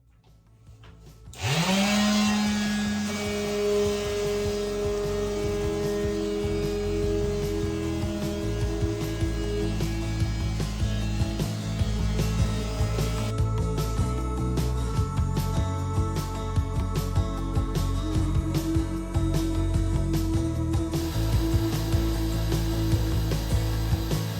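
A power sander whirs up abruptly and runs continuously at a steady drone in a small bathroom, with a gritty scraping texture layered over it throughout.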